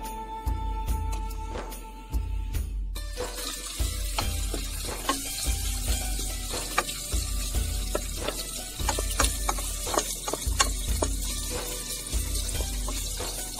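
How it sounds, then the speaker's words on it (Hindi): Onions frying in hot olive oil in a pan: a steady hissing sizzle runs throughout, with periodic low thumps and scraping stir sounds in a regular rhythm, fairly close and continuous. "प्याज को ब्राउन कर लेंगे।"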